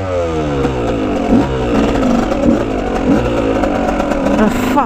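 A motorcycle engine revs and accelerates hard, loud and close, its pitch rising and falling in repeated surges across the whole stretch, with no talking over it.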